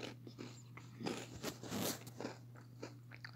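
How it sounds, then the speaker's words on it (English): Cheetos being chewed close to the mic, with repeated crunchy bites and crackling mastication in irregular bursts over a steady low hum, no talking. "I'm just eating Cheetos."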